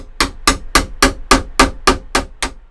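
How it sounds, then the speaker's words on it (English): A chisel struck by a hammer to clean out a doorknob recess in a camper door, about ten sharp, evenly spaced strikes ringing loud and close with no talking. "I had to use my chisel and clean everything up so that it fit perfectly"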